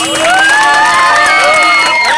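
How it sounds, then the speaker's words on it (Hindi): Onlookers at a village soda-drinking challenge cheer a contestant, loud, close shouts and whoops with high, wavering voices rising over a constant crowd din. "रामराज पटेल जी के लिए एक बार जोरदार तालियां"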